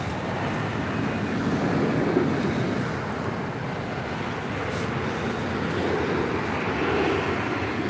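JetBlue Airways A321 airliner arriving at LAX from San Diego, a steady broadband jet roar that holds fairly loud and even throughout, swelling slightly at moments without any voices.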